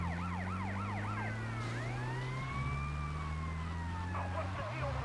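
An ambulance siren in Grand Theft Auto: Vice City wails in rapid yelps, then switches to a long slow rise and fall, loud and steady over engine and street noise.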